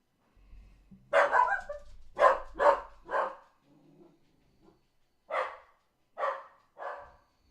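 A dog barks in spaced pairs and single woofs, moderately close, with a low whine between the bursts and a faint rumble of background noise at the start.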